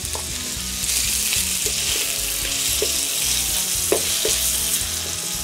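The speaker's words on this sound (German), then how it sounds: "Und man hört sogar schon brutzeln." Oil sizzles and crackles steadily in a hot wok on a rocket stove, a loud continuous frying hiss with occasional pops and light scraping.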